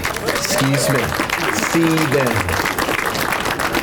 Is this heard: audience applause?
yes